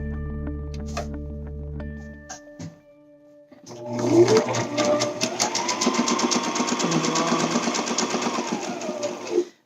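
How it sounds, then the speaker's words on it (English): Sewing machine stitching elastic onto fabric, starting after a pause and running steadily for several seconds at a close, even, buzzing pace, with a softer mechanical hum before it. "this is the side that you're sewing your elastic to"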